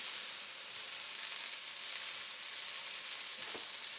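Seitan and vegetables stir-fry in a hot pan, giving a steady, dense sizzle close by with a faint stirring knock near the end and no talking.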